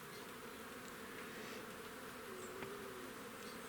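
Honeybees buzzing around a new hive, a steady, faint, dense drone with a few individual bees passing close, no voices.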